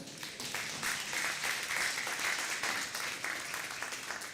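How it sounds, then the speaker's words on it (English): An audience claps for panelists at a government-to-government event, a full, even round of applause from a room of people that stays loud and dense throughout without any voices above it. "can we give our panelists one more round of applause?"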